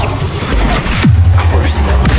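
A Bombarda blasting spell in Hogwarts Legacy goes off as a low rumbling boom with crashing impacts in a noisy battle, a voice shouting over the game sounds.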